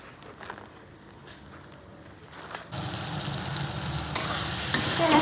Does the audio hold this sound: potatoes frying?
yes